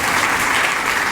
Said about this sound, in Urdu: اس کے لیے تالیاں بجائیں۔